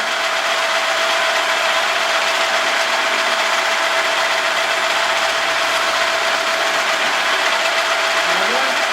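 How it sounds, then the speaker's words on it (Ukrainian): A milling cutter machines a track into a perforation disc, giving a steady, loud, continuous grinding whine with a sustained tonal band that runs unbroken through the whole stretch, with no talk over it. "От воно фрезерує"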